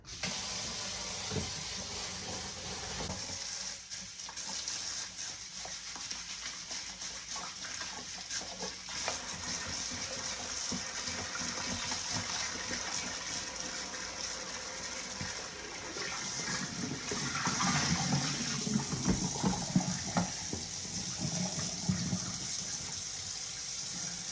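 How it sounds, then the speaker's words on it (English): Water runs steadily into a sink as a chicory root is scrubbed clean with a brush, a continuous splashing rush that swells louder and busier toward the end, with no talking. "Okay, I've got this in the sink. Got a scrub brush. Let's get this washed up."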